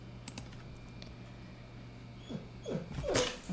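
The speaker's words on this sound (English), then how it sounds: "Sorry, that's my dog crying in the background." A pet dog whines and cries near the end, rising in a few plaintive bursts over faint computer keyboard typing in a quiet room.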